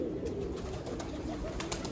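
Sialkoti pigeons coo softly in low, murmuring tones beneath a constant hum of background noise, with a few faint flutters.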